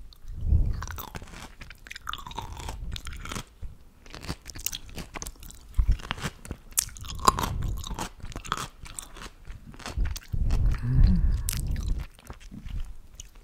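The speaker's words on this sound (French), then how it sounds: "le croquage du cornichon" Crisp bites and wet crunching of a pickled gherkin eaten close to the microphone, irregular loud snaps followed by repeated chewing crunches over several seconds, with no talking.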